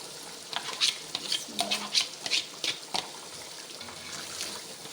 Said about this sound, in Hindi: अब 2 मिनट तक इसे भूनते हैं।